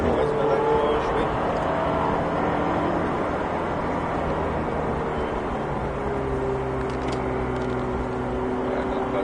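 A Ferrari 488 GTB on the Folembray racing circuit runs at steady high speed, its engine droning continuously with shifting tonal whine as gears change, loud and close throughout, with a voice talking over it.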